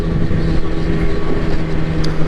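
A motorcycle rides along with a constant engine drone and heavy rushing wind noise on the microphone, loud and steady throughout with no distinct events.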